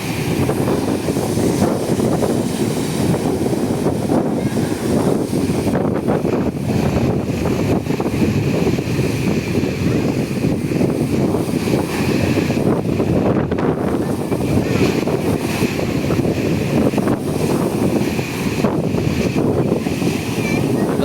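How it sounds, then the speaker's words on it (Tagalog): Big waves and strong wind roaring steadily after a typhoon, a dense continuous wash of surf and gusts buffeting the microphone, loud and unbroken throughout. "laki na ng alon"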